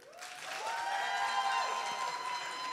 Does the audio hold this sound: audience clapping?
yes